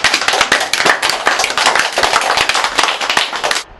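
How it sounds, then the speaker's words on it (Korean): An outdoor lecture audience clapping, loud and close, a dense burst of many hands that holds steady for several seconds and then stops abruptly, no voices. "박수 좀 쳐줘요"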